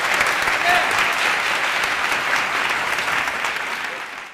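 Sustained audience applause at a Phenomenal Men 2009 awards event, dense and even clapping from a large crowd that fades slightly toward the end, with no speech over it.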